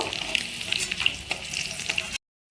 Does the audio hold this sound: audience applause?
no